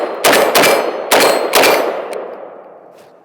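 Four sharp rifle shots from a Galil Ace ring off steel Raven targets in quick pairs, each crack followed by a bright metallic clang that rings and fades; loud and close, with no talking.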